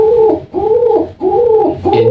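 Domestic pigeon cooing close by in repeated rounded calls, three to four throaty phrases in quick succession with short pauses between, loud and clear with no talk.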